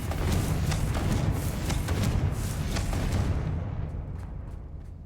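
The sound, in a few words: Confringo explosion spell from a video game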